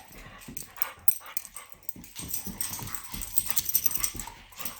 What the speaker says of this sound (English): Happy dog.